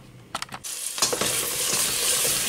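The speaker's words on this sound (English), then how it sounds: "a large onion and a small onion frying in the palm oil here" Onions sizzling and crackling in hot palm oil, a steady loud fry that starts after a few brief stirring clatters.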